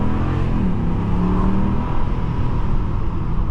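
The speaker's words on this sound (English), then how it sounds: "one thing you would always fall in love with a truck like this is the way she sounds" A 2022 Dodge Ram 1500 pickup engine revs with a loud, steady low rumble throughout, close and continuous with no talk.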